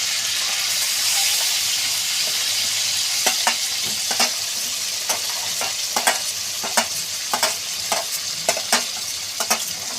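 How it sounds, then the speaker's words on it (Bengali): Onions hit hot oil with a bright, loud sizzle that settles into continuous frying, punctuated by a rhythmic series of sharp scraping clicks from stirring in the pan. "এবার গরম তেলে পেঁয়াজ দিয়ে দেবো।"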